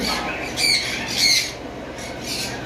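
A pair of hyper pineapple conures in a bird sale setting make harsh, shrill squawks in several close bursts over a constant background hum.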